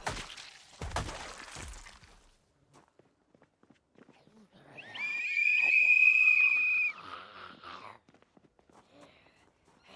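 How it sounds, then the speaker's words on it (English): A whistle blown in the video game Project Zomboid, one loud sustained shrill tone lasting about two seconds mid-clip, preceded by footsteps and movement noises. "just to blow my whistle"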